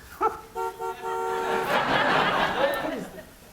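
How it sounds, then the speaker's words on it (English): A car horn toots in a quick series of short blasts, then gives way to a broad noisy din with laughter and chatter from a television studio audience. "Who's hooting in the background like that?"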